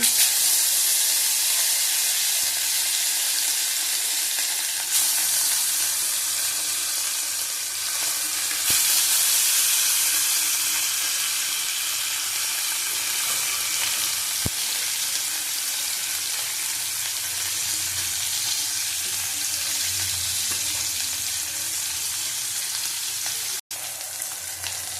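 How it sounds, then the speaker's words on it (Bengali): Pieces of fresh rohu fish fry in hot oil in a wok, giving off a loud, continuous sizzle and hiss with occasional sharp pops and clicks. "দেখো মাছগুলি ভাজা হয়ে গেছে"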